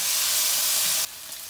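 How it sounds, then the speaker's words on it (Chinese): Bean paste sizzling loudly in hot oil in a wok with scallion, ginger, garlic, Sichuan peppercorn, star anise and chili, a dense steady hiss that drops abruptly to a quieter simmer near the end. "放2勺豆瓣酱，炒出红油"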